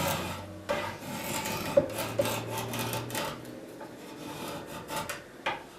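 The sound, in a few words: carving a wooden arm rail with a bevel down knife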